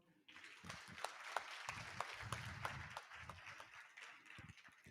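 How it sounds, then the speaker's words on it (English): Audience at a council chamber event on building minority businesses giving a round of applause, a crowd of hands clapping steadily at moderate volume, with some voices mixed underneath. "So again, give him a round of applause."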